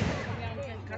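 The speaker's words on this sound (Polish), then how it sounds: "gruchnęła właśnie mała polowa armata Prusaków" A small Prussian field cannon fires during a Napoleonic battle reenactment at Ruszcza, a heavy, rolling low boom with a booming echo, partly masked by a voice talking over it.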